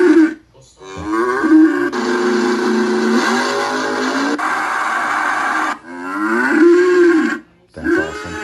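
Electronic cow moo sound effect from an El Toro Loco Power Wheels ride-on toy, several loud synthetic moos blended with engine revving effects, played close and alone.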